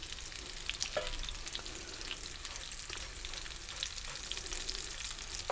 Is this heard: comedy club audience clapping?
no